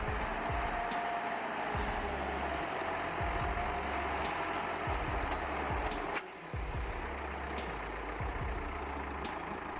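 A heavy tractor engine under load in mud drones steadily and loudly throughout, with low rhythmic chugging and a brief dip in the middle.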